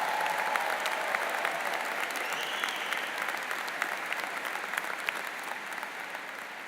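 A large audience applauds graduates at a Southern New Hampshire University commencement ceremony, producing a steady wash of clapping from many hands at moderate distance that carries on evenly without a break.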